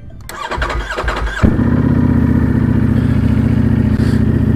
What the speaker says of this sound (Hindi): सबसे पहले कोल्ड स्टार्ट करेंगे